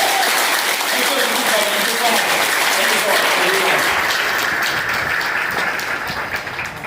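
An audience claps and applauds after a motivational speech, a dense sustained wash of many hands that stays loud for several seconds before tapering slightly at the end.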